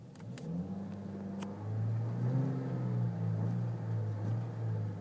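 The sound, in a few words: 2011 Chevrolet Cruze Eco engine revving with raspy sound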